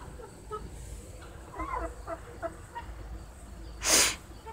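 Hens clucking softly in short, scattered bursts, fairly faint against quiet ambience, with one sharp, loud, noisy burst near the end.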